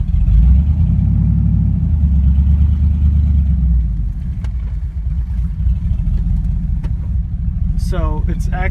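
A car shifted into reverse with a transmission acting low on fluid, its low engine drone steady and close throughout, with a brief higher whine near the end.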